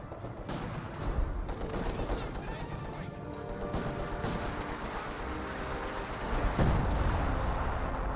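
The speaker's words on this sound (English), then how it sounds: "Got some artillery raining in somewhere over here." Artillery and gunfire in the Company of Heroes 2 battle game: a dense, continuous rumble of shots and explosions with sharper blasts near the start and a louder surge toward the end.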